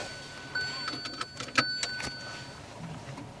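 Switch-over of a Hyundai Aura's CNG fuel conversion system, heard as a few faint electronic chimes and soft clicks against a quiet car interior, alone without talk.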